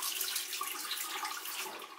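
Warm tap water runs steadily from a faucet to dampen a beauty mitt, a continuous broadband hiss that holds throughout at close range with no talking.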